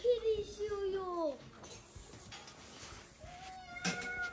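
A cat meows twice, close and clear, with a long falling cry at the start and a shorter one near the end, while a voice and household bustle sit underneath.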